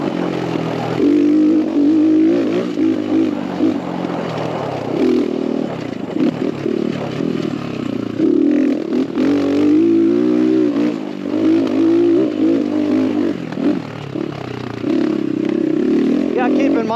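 X Pro Templar 250cc dirt bike, still being broken in, on a trail ride: a close engine droning and rising with throttle changes throughout, with rattles and scrapes and a voice talking at times.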